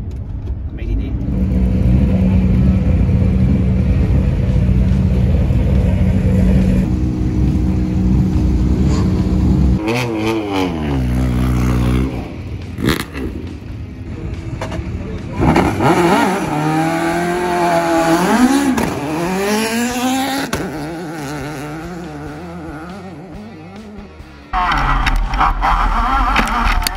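Race car at a track event, its engine loudly revving and rising and falling as it accelerates and shifts, with bursts and pauses in between and voices heard between runs.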